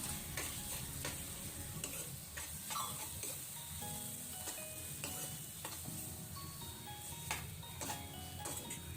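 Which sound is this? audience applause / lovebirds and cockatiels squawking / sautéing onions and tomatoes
sautéing onions and tomatoes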